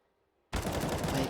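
M4 rifle fire in CS:GO on the Train map at a professional match, a loud sustained burst that starts abruptly after half a second of near silence and stays dense and heavy to the end.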